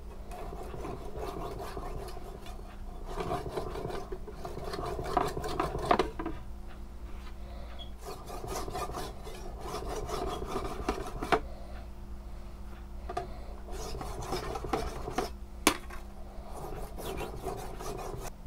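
A homemade sword blade is hand-sanded through progressively finer grits, a close, repetitive rasping of rubbing strokes in irregular bursts, with a faint background hum.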